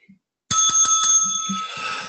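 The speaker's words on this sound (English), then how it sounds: "That's how you know it's a real game show, when you have a bell." A bright bicycle-style bell rung at a game show, starting abruptly after a brief pause with several quick loud dings that ring on and slowly fade.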